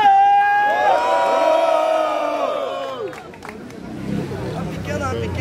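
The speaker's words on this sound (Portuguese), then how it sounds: "Barulho só pra quem achou que foi FLP" At a Batalha do Coliseu freestyle rap battle in São Paulo, a crowd erupts in loud cheering and whooping, with shouted voices at first and then a rowdier, lower roar of the audience.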